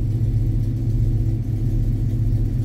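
A 1986 Chevrolet K10 4x4 pickup truck idles with its engine running, a steady, close, low rumble that stays even and continuous with no revving.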